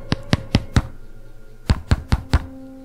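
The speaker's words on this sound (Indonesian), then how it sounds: "Terdengar suara ketukan." Knocking on a door late at night in a horror tale: two clear groups of four sharp, evenly spaced knocks separated by a pause, close and fairly loud with no voices.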